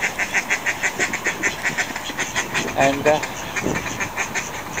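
Ducks quack in a rapid, repeated chorus close by at a village pond in Woodford, while someone talks over the racket and it keeps going throughout.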